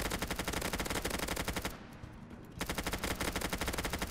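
Rapid automatic MP5 submachine gun fire in the Roblox game War Simulator, loud and continuous, broken by a short pause before the burst resumes.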